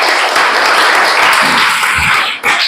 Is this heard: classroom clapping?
yes